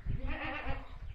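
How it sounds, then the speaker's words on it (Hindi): While a goat is milked, the animal gives loud bleats close by, with low thumping handling noises underneath. "आप देख सकते हैं कैसे बकरी से दूध लिया जा रहा है"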